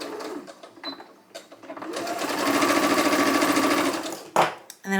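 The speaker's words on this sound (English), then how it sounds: "So I'm literally just going to top stitch over the bottom of the lining of this little pouch." A sewing machine topstitches across the bottom of the lining of a small fabric pouch. A loud, close, steady whirring run of about two seconds follows a few short starts and handling noises.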